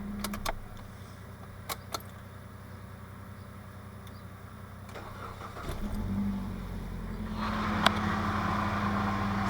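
A Mitsubishi Shogun 2.0 GDI 4G94 engine with low fuel rail pressure cranks briefly after some keys jingle, then catches and settles into a steady idle close by. No one speaks.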